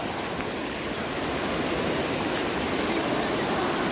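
Steady, dense rushing of a swift river, muddy after overnight rain, loud and continuous with no pauses or voices.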